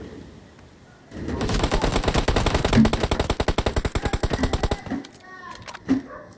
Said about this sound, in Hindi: वो बंदे मेरे पे फ्री फायर भी देंगे, पर मेरे को मार नहीं पाएंगे वो